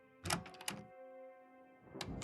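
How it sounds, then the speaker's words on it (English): A lounge door in a video game opens with a couple of heavy thunks and a clatter, then a low mechanical hum, and a final bump as it settles. The sounds are close and fairly loud, with no voices. "The door to the lounge."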